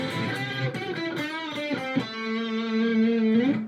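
Distorted electric guitar plays a solo: a quick run of picked notes, then a long sustained bent note ringing loud and alone to the end.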